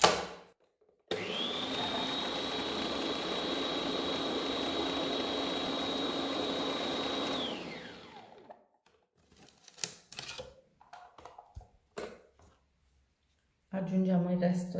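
An electric kitchen mixer blends orange cake batter for a ring cake, a steady loud whirring hum that holds for about six seconds before spinning down. After it stops come scattered faint clatters and a short stretch of talk.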